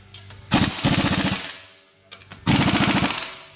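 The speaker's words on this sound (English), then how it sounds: "We like to use a little bit of air, but we use a torque stick" An air impact wrench fitted with a torque stick tightens wheel lug nuts: two loud close bursts of rapid hammering rattle, each about a second long, separated by a short pause.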